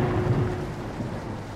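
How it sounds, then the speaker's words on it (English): A thunder and rain sound effect on a 1975 album, a low rumble of thunder over steady rain hiss in a brief, fairly loud passage. "So what if it's raining?"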